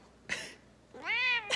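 A house cat meows twice at close range: a short yelp, then a longer rising and falling meow, with quiet room tone between and no talking.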